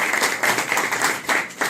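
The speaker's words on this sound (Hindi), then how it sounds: "भरपूर तालियां थी उन दोस्तों के लिए" A crowd claps steadily, the applause rising and falling in waves with no voices standing out.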